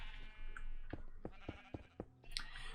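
Rainbow sheep in a video game bleating in a few short, faint calls over a soft background of game sounds and light clicks.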